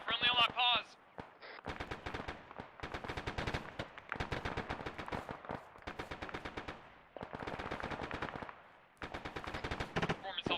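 Rapid automatic gunfire in the military video game Arma 3, delivered in repeated sharp bursts of closely spaced shots, with brief radio-style speech between them.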